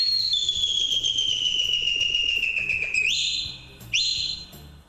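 A zamare, an Albanian folk pipe, imitating birdsong: a long, high, sustained whistling tone slides slowly downward, then two quick upward-swooping chirps follow, loud and close with no talking.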